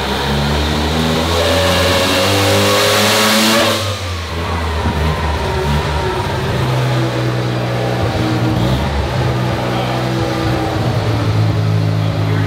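Turbo diesel engine swapped into a Datsun 240Z revs hard past 5,000 RPM, rising to a peak, dropping briefly, then climbing again with a steady, loud, close drone and no talk.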